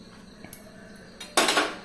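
Curd rice with coriander leaves is stirred in a metal vessel, giving light scraping and a few soft taps, then a louder clatter of spoon against pot right at the end.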